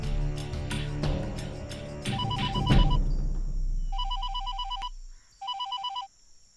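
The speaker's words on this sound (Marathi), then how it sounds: "देशमुख साहेबांचा फोन आला होता." A telephone rings in a Marathi home drama scene, with bursts of a bright electronic ring tone repeating in short pulses after some rustling and background music fades out.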